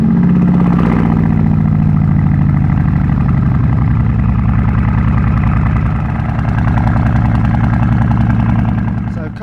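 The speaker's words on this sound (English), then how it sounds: "Stainless steel Brabus exhaust, which has 2 settings, loud and really loud." A Brabus off-roader idles close by through its stainless steel Brabus exhaust, a loud, deep and steady engine rumble that holds throughout and dips slightly in the middle.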